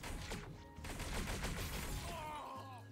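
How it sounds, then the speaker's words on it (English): Rapid gunfire from a virtual reality shooter game, a dense burst of shots rattling over the first couple of seconds and then easing off, with other game sounds mixed in. "Who the fuck is shooting at me?"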